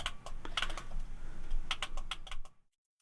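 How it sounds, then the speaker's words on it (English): A Gamrombo LED wireless game controller for PS5, PC and Android has its buttons pressed, a quick run of close, crisp clicks that stops abruptly into silence. "clicky buttons"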